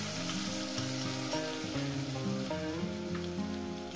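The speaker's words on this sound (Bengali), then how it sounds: "এটাকে আমি সুন্দর করে কষিয়ে নেবো 2-3 মিনিট ধরে" Vegetables with spice paste and green chilli frying and being stirred for a rohu-style mrigal fish curry, a steady close sizzle with scraping stir strokes throughout, no talking.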